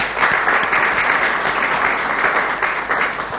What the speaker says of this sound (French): Mesdames, Messieurs, je vous prie de l'applaudir.